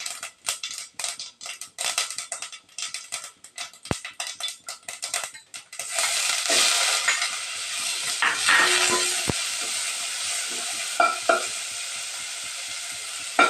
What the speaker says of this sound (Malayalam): അപ്പോൾ ഇതാ നല്ല കടുകൊക്കെ പൊട്ടി വരണം കേട്ടോ.